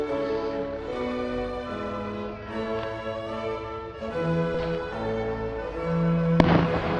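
A fireworks display in Junction City on 15 July 2012 crackles and booms at a distance, with rising whistles and scattered pops over steady background noise, ending on a sharper crack.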